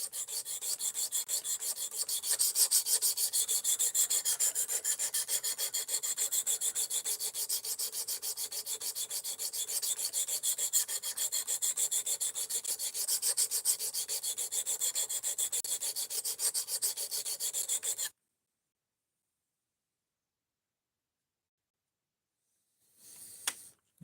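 Steady back-and-forth rasping of a knife blade stroked across a sharpening stone, an Ozark Trail axis lock knife, continuous and close for about eighteen seconds, then silence and a brief scrape at the end.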